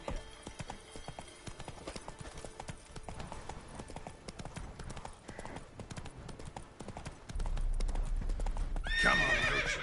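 Roach, the horse in The Witcher 3 video game, gallops with a steady clip-clop of hooves throughout, neighs, and finishes with a loud whinny at the end.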